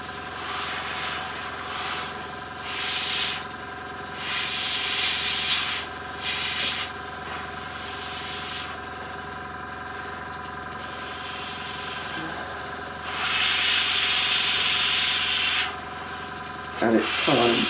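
Airbrush hissing in repeated bursts as base coats of paint go onto a Blood Red Skies Spitfire Mk II miniature, steady airy spray with brief pauses, a voice occasionally talking underneath.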